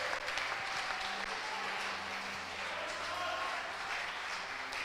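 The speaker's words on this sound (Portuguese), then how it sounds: "Dê um aplauso bem forte a Jesus." A church congregation claps loudly for several seconds, a dense steady wash of applause that holds even throughout without any lull.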